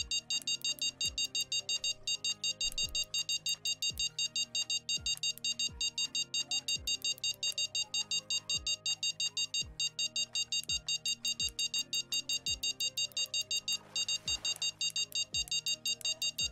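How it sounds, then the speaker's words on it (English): In the fishing video game Fishing Planet at St Croix Lake, Michigan, an electronic alarm beeps in rapid steady repetition for the whole stretch, with a slower repeating tone pulsing underneath. "Stop beeping"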